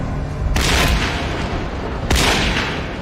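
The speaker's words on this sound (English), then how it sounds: "The shots went right by me." Two booming gunshots from a TV crime drama ring out loud and close, one near the half-second mark and another after a pause, each followed by a lingering tail over a dark, rumbling background.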